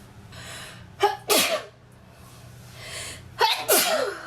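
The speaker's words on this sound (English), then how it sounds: "why am I sneezing so much?" Two sharp, close sneezes, each preceded by a short intake of breath, separated by a couple of seconds of quiet room noise.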